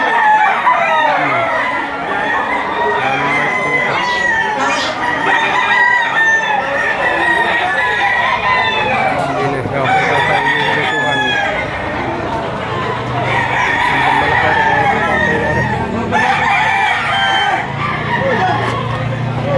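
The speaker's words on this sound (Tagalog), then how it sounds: "Magandang manok." Several roosters crowing repeatedly, loud and close, with overlapping cock-a-doodle-doo calls and clucking from other fowl throughout, while a person talks in between the calls.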